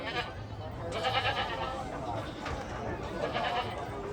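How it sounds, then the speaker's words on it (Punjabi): Goats bleat repeatedly amid a noisy, crowded goat market, with the wavering cries overlapping one another. "ਆ ਬੱਕਰਾ ਹੈ"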